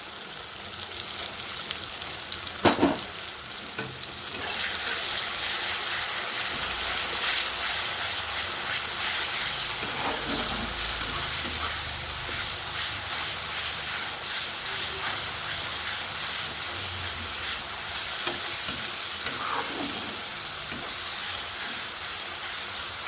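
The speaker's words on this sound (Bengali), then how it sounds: "দু তিন মিনিট মশলাটা কষাই নিন" Spice paste with fried tomato and onion sizzles and hisses steadily in a pan while being stirred, a loud continuous frying noise after a brief knock and clatter near the start, with occasional scraping.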